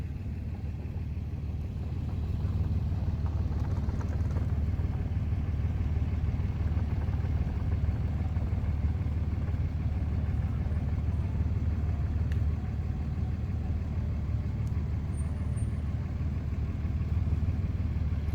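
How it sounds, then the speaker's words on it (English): Steady low rumble of many cars driving past on a campus road, a continuous blended traffic drone at moderate distance with no talking. "This is truly a great number of cars."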